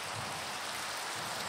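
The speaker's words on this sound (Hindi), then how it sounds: "अबे यार बारिश हो रही है" Steady rain in Minecraft, a dense even hiss of falling drops with no breaks, moderately loud and heard alone.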